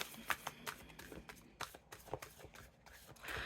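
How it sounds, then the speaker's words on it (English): Tarot cards being shuffled by hand, a run of quick papery riffles and soft slaps at an irregular rhythm, close and quiet, ending in a longer rustle. "I'll finish through the shuffle."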